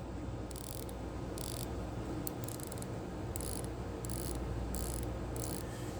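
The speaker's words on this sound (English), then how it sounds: "So that's that bezel action." The rotating bezel on Seiko SLA075 and SLA073 diver watches clicks in short, muted ratcheting bursts, about ten separate turns spread irregularly over a steady low background hiss.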